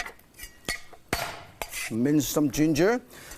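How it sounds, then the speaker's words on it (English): A kitchen knife mincing ginger on a cutting board makes a handful of sharp, uneven chops up close, then a voice sounds over the last few strokes. "Mince some ginger."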